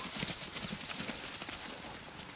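A flock of sheep runs up to a field, with a dense, busy patter of many hooves on the ground from nearby.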